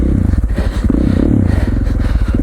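A KTM 450 dirt bike engine rides through snow in Idaho, running close and loud with a steady, pulsing throttle and some clatter throughout.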